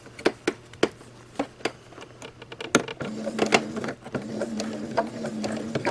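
Sewing machine stitching a fabric face mask strap, running in short bursts of quick rhythmic clatter with pauses between, then a steadier run of stitching near the end, close and fairly quiet, no talking.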